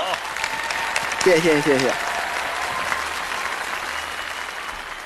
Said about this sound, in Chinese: 让我们掌声送。